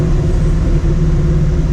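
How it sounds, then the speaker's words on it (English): A supercharged 2004 Mustang GT engine rumbles loudly and close, a deep steady drone with a brief dip. "I love these downshifts, man."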